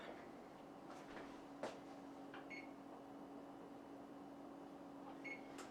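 A kitchen oven being set to preheat to 375 gives a few short electronic beeps over a low steady hum, with faint clicks and one soft knock, quiet and close.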